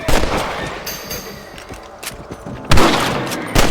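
Rifle fire aimed at rabbits in the video game Red Dead Redemption, loud close cracks in a short burst, a pause, then another sharp report and a final shot near the end, with no talking.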